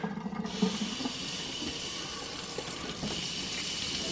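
Cold water pours from a tap over a soft, soapy sponge, a steady close rushing splash that begins abruptly and continues evenly, with no talking.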